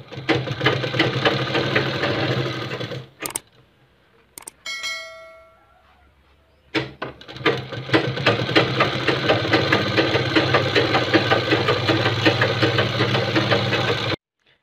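A sewing machine stitches along the folded edge of kurta fabric in two fast, loud runs separated by a pause with a few clicks and a light ringing rattle.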